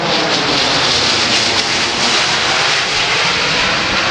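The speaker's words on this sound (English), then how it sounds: "rolling that big C-17 to level. He's going to push the power up." A large C-17 Globemaster III military transport jet passes low at an airshow at Dover AFB, its engines a loud, steady broadband roar filling the whole stretch with no talk over it.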